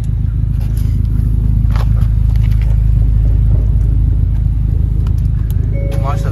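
A brand-new car's engine idles after starting, a steady low rumble filling the whole stretch while people talk nearby.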